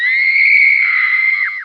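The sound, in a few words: shrill scream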